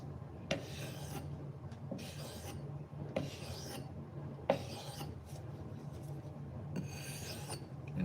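An axe is drawn across a 3000 grit sharpening stone in repeated close rasping strokes, each a short gritty scrape separated by brief pauses, over a low steady hum.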